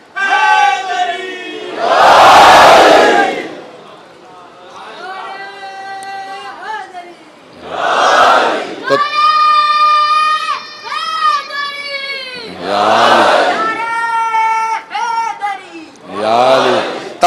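At a Muharram majlis gathering, a preacher's amplified voice alternates with a large crowd's loud, forceful unison chant of the Haidari slogan, each shouted response bursting out between stretches of his speech.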